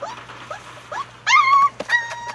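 Young puppies too little to have teeth, making several high, thin whimpers and squeaky cries close by, rising in pitch and growing louder toward the end of the short burst.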